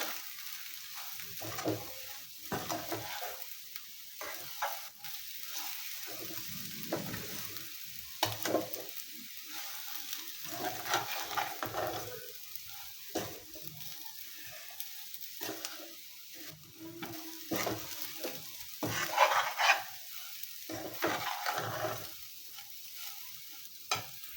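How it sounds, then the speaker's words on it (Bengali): Lachha semai is stirred and fried with coconut and sugar, giving a steady soft sizzle broken by repeated scraping stir strokes throughout, close and moderately loud with no talk. "এভাবে বেশ কিছুক্ষণ নেড়ে চেড়ে সেমাইটা ভেজে নিতে হবে"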